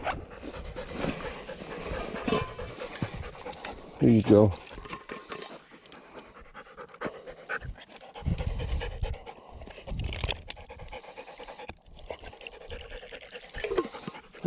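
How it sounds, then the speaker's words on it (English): Saia the dog pants steadily outdoors on a sandstone slab, then laps water from a small rock depression with wet licking sounds, while someone talks to her nearby. "Okay, go lick the water."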